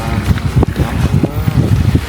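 Gusty wind blowing across a seaside glamping campsite on the Chanthaburi coast, a continuous loud rushing roar with buffeting bursts against the microphone.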